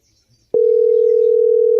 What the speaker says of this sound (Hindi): तब लगाओ फोन सेठ को।